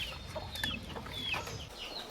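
Kaki breed hens and chicks clucking in a farm pen, with repeated high chirping calls and soft clucks close by over a steady low background rumble.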